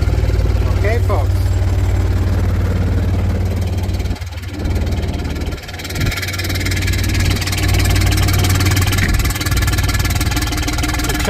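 A Yanmar diesel engine in a 2005 John Deere Gator HPX idles steadily after a cold start with new glow plugs, a continuous low chugging rumble that runs the whole time, with brief dips and some speech over it.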